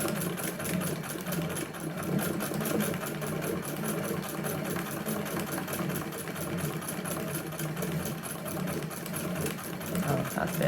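A hand-crank sewing machine stitching free motion embroidery, a fast, steady mechanical ticking and whirring that runs continuously and evenly throughout at close range, with no talk.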